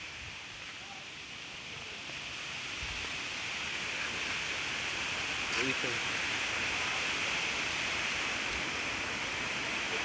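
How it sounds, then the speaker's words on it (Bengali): Strong wind at night roars outside in a broad, steady rush that builds slightly and stays loud throughout, with a brief spoken word heard over it. "হাওয়া ছেড়ে দিয়েছে দেখো অনেক স্পিডে"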